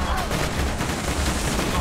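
Rapid gunfire bursts crackle densely through a Borderlands 2 firefight during a vehicle chase, loud and continuous across the moment.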